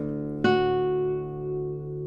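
A 1973 Hermann Hauser II classical guitar is plucked once ponticello near the bridge, a single bright attack whose rich overtones shimmer and sustain with a chorus-like beating as the note slowly fades, close and alone.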